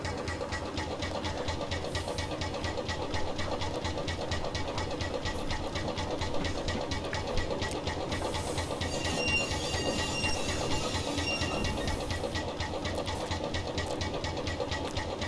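A Lanz Schienenkuli, a tractor mounted on a narrow gauge rail bogie, in Train Simulator Classic: its engine runs with a steady rapid chugging drone and a mechanical rattle, with a faint squeal partway through.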